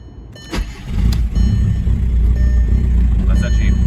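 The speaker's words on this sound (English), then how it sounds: "I'm gonna do a cold start" A VW TDI diesel engine cranks over cold and catches, settling into a loud, steady, rumbling idle close by, with voices faintly present.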